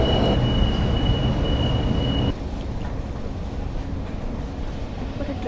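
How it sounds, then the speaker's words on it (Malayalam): A train rumbles through Sydney Central station, a steady, loud roar of rolling stock. A high whine drops out partway through, and faint crowd noise from the platform sits beneath the rumble. "ട്രെയിൻ ഉണ്ട്, അത് കിട്ടും."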